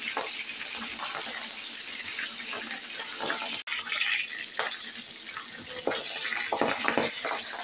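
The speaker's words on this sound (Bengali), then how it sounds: "এখন ভেজে নিচ্ছি আমি ভর্তার জন্য মাছ" Fish frying in hot oil for bharta, a steady loud sizzle and crackle with bursts of spattering over the whole stretch.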